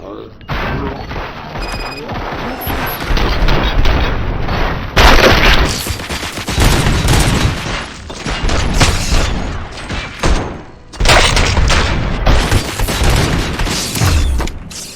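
Rapid bursts of gunfire and mechanical clatter from RoboCop: Rogue City during a large riot in a central prison, loud and dense with repeated booms across the whole stretch and voices mixed in.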